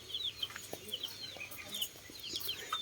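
Hens cluck at a chicken farm in hot weather, with soft repeated clucks and short calls close by over a quiet, busy farmyard background.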